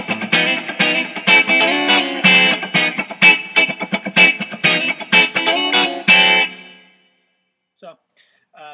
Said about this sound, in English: So that gives you some idea of some of the clean tones that I will typically use